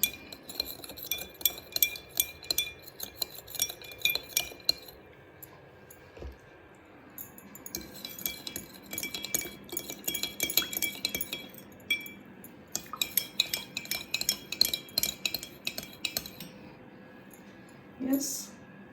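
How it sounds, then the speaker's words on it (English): A spoon stirs crystals in a glass to dissolve them, making bursts of quick, light clinks against the glass separated by short pauses, with occasional speech in the background. "We'll just stir once again after some time, because we must give them time to dissolve."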